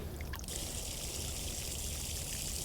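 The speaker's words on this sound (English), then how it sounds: "Now we're gonna drain this big bowl, and there's a plug right down here." Water drains steadily from a large garden fountain bowl through an opened plug, a constant close rushing trickle with a brief faint clatter at the start.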